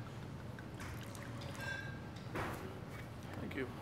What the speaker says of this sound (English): Now, you're going to pour a small taste for that person.